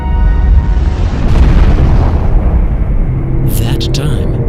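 A deep, loud Big Bang explosion sound effect rumbles with heavy low boom and a rising roar, sustained through the whole stretch, with a brief bright crackle near the end.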